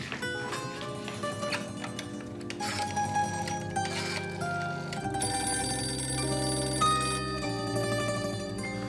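A telephone rings under a musical score in a Turkish television drama, with a repeating bell-like tone audible through the music and no speech.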